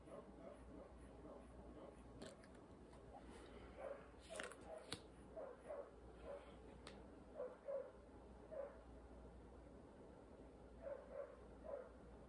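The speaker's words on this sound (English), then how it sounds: "there's really a cry that the dog wanna come in" A dog whines to be let back inside, giving high thin whimpers and yips in short clustered bursts, faint and somewhat distant over a low background hum.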